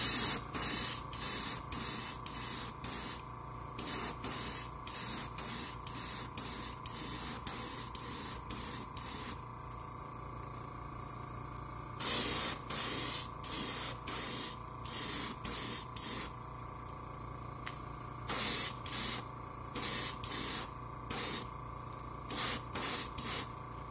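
An airbrush spraying paint onto the belly and side of a Megabass S Crank crankbait lure in a Tennessee Shad finish, heard as many short sharp hissing bursts in quick irregular succession over a faint steady hum, close and alone.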